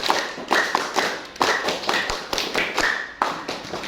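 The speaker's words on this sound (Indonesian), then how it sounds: "Tepuk pramuka." Group of people doing a rhythmic scout clap in a classroom, sharp claps arriving in short patterned bursts with brief pauses between them, fairly close and loud, no talking over it.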